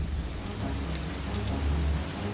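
Steady rain falls in a dense, continuous hiss with a low rumbling undertone, heard alone without any voices.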